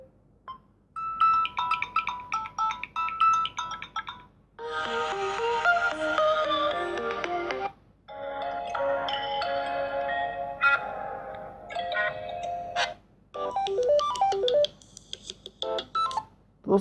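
Samsung Galaxy A21s ringtones play through the phone's speaker one after another, each a bright electronic melody of tones and beeps separated by short pauses, loud and clear with no talking.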